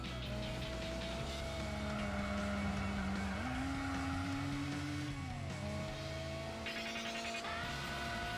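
Car engine in the video game Gran Turismo 4, from an oversteering car with a distinctive note, humming at a steady pitch, climbing as it revs up, then dropping at a shift, low in level throughout.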